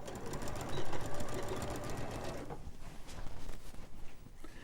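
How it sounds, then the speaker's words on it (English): A sewing machine stitches along a fabric edge, running loud and close as a fast, steady mechanical whir with a regular pulse for about two and a half seconds, then fading to quieter handling noise. "you're just going to sew all along that edge, but make sure you back stitch at both ends"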